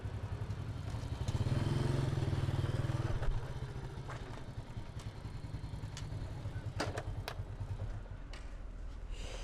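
A motorcycle engine runs steadily close by with a low, throbbing drone, rising slightly early on, punctuated by occasional clacks and thumps.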